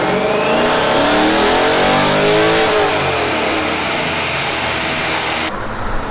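A C7 Corvette with a freshly flashed ECU revs hard and loud, its engine note climbing steadily in pitch through a sustained pull before cutting off near the end, close and without speech.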